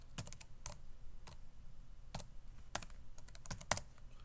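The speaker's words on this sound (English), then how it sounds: "we put in our username and our password" Someone types a username and password on a ThinkPad T430 laptop keyboard during a Lubuntu 22.04 install, producing close, crisp key clicks in irregular quick runs separated by brief pauses, with no voice.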